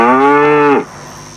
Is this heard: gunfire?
no